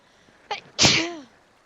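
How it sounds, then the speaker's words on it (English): A single sharp sneeze, close and loud, preceded by a short intake of breath, then silence. "I'm sorry for sneezing in your ear."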